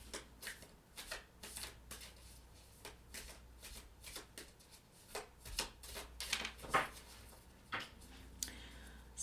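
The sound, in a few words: shuffling a deck of tarot cards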